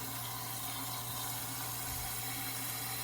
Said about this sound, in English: And we're going to fill the pot up with water.